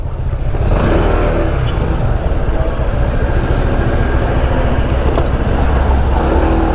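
A Honda PCX scooter carries its rider along a road in San Nicolas, Batangas, its engine droning loud and close with a steady, rumbling tone and constant wind rush after a brief quieter start.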